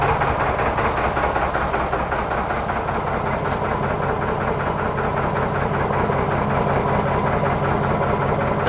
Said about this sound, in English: It's good, but we can hear the motor.